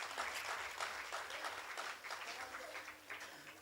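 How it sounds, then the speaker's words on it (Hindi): A live audience at a Hindi kavi sammelan poetry recital claps steadily, a dense, even patter of many hands sustained throughout at moderate distance. "तालियां थोड़ी ताली चाहिए मुझे आपकी"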